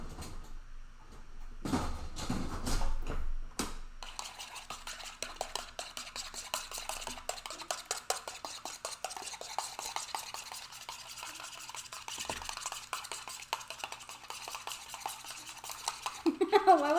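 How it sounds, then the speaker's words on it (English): An egg is whisked in a small bowl, a quick rapid clicking and scraping of utensil against the bowl that runs continuously for many seconds at modest, close volume after a few louder knocks at the start. "you just grab one egg and you whisk it all together"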